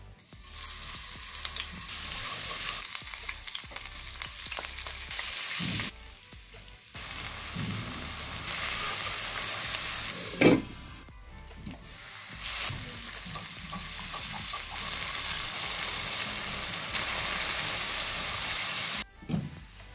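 Garlic paste frying in hot oil in a pot, a loud steady sizzle with stirring scrapes, broken by a few brief pauses and one sharp clatter midway.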